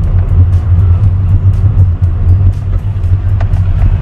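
A Mazda car driving along a road in a Tver village, its engine a steady low rumble with a close, continuous drone and no pauses.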